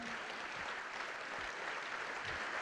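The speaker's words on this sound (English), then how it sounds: "How about some applause for this incredible panel?" Audience applause for a panel at a Houston economy forum, a steady, soft wash of clapping held at an even level across the whole stretch, quiet and slightly distant.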